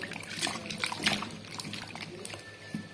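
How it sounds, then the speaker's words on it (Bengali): Bottle gourds being washed in water, with close, irregular splashes and sloshing during a short stretch, under a person talking. "তারপর যে লাউগুলো আমি এখন ধুয়ে নেব"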